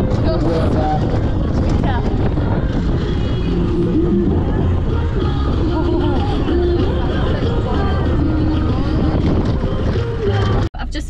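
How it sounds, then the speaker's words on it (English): Strong wind buffets the microphone during a sprint triathlon in Storm Kathleen, a loud, continuous low roar with gusty rumble that holds steady for about eleven seconds before cutting off abruptly at the end. "it was the windiest race ever"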